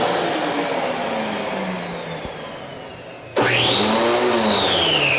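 An MD central vacuum runs with its hose plugged into a wall outlet, drawing a steady whooshing roar. Partway through, a click sets off a sudden louder surge of suction whine that continues to the end.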